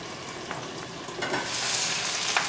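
Meatballs fry in a pan while cooking Persian sour cherry rice, a close, steady sizzle that grows louder and denser partway through, with a few soft stirring scrapes.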